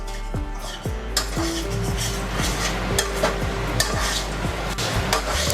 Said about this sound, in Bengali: এখন আমি ভেজে রাখা পনিরগুলো দিয়ে দিচ্ছি এর মধ্যে।